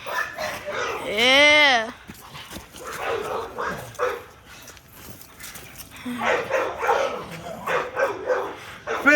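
A dog barks and yips in short bursts, with one loud drawn-out howling bark near the start and whimpers afterward, mixed with someone talking.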